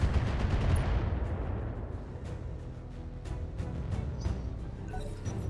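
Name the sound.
LRM missile barrage in the video game BattleTech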